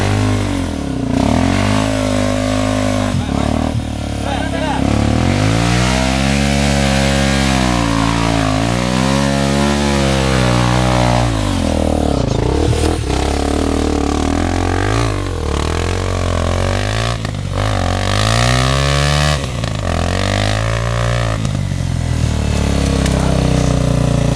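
A trail motorcycle stuck in mud revs hard and repeatedly, its engine rising and falling loudly and close by as it strains to break free, with occasional shouted voices underneath.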